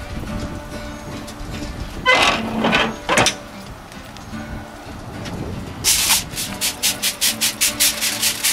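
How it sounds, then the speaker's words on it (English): Rustling and crinkling of foil or wrap as barbecue ribs are wrapped partway through cooking, in irregular bursts, then a quick run of regular crinkles near the end, close by with no talk. "so I think it's about time to wrap them."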